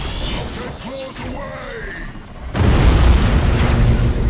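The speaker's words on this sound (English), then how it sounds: "Nova Cannon about to go off again." A Nova Cannon in Battlefleet Gothic Armada 2 fires and detonates, a sci-fi whine giving way to a loud, sustained rumbling explosion that fills the second half.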